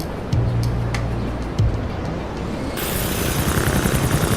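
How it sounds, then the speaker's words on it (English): A helicopter flies in the video game GTA 4, its loud rotor drone running steadily, first under a few short bursts of game sound and then swelling into a broader, rougher roar. "We'll be using a helicopter since there are no planes in GTA 4."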